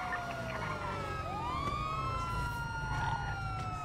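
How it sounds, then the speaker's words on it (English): Police car sirens wailing in a GTA V roleplay game, several rising and falling tones overlapping against a steady rumble of traffic and engine noise, continuous and fairly loud throughout. "I'm looking for the sirens."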